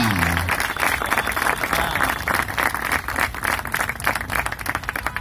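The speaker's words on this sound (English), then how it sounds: "give a big, big, big massive round of applause for Mr." A wedding reception crowd gives a bride and groom a dense, sustained round of applause, loud and continuous, with a voice briefly heard at the start.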